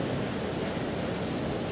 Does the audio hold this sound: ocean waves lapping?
yes